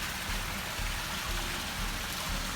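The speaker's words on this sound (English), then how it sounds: "Just a great waterfall feature here." Steady splashing and rushing of a waterfall feature pouring into a backyard pool, a continuous even wash of falling water heard alone at moderate distance.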